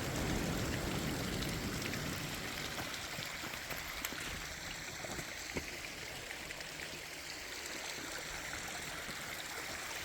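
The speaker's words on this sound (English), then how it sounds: "So I'd show you this lovely little waterfall coming down here." A small waterfall flows on the coast between Charmouth and Golden Cap, giving a constant, close splashing and trickling rush of water that stays steady throughout with no talk.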